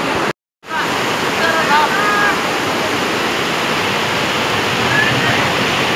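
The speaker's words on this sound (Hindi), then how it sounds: "सुंधा पर्वत पर जमकर बादल बरसने से झरने में पानी बहने लगा" Waterfall swollen by heavy rain at the Sundha mountain temple, a loud continuous roar of rushing water, cut by a brief silent gap near the start before the steady rush resumes.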